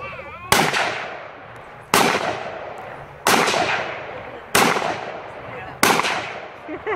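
Tannerite binary explosive targets shot and detonating outdoors at a gender reveal, five sharp loud blasts at steady intervals, each with a long rolling decay, no talk over them.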